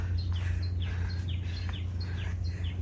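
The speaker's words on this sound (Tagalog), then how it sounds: "Yung mga ibon." Several small birds chirp and tweet in short repeated bursts over a low steady rumble of wind or surf, heard outdoors on Sharp Island (Kiu Tsui Chau), Hong Kong, with no one speaking.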